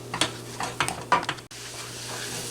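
Churro dough being stirred in a pan to cook off the flour, with a few soft scraping strokes over a faint steady hum, quiet and close.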